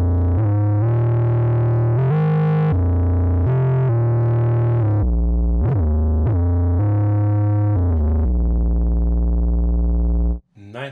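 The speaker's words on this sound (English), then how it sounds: "using detuned oscillators with bandpass filter tuned to high resonance" Waldorf Rocket synthesizer playing a growling patch of detuned oscillators through a high-resonance bandpass filter, sustained buzzy notes with audible beating that shift in pitch over about ten seconds, loud and alone until a brief cut at the end.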